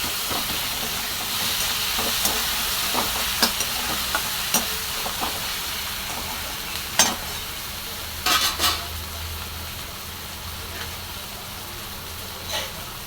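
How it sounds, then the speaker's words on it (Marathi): Salt being stirred into a sambar mixture in a pan: soft spoon scrapes and clicks at irregular intervals over a steady steamy hiss, with a few louder knocks midway and no talking. "थोडंसं मीठ टाकून घेणार आहे याच्यामध्ये असं छान मिक्स करून घेणार आहे"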